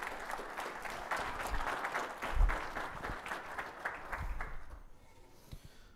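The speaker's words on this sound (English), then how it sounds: "So please give it up a warm applause for Paul and Becky." An audience at an alumni networking event gives a warm round of applause, dense steady clapping that holds for several seconds before thinning out and fading near the end.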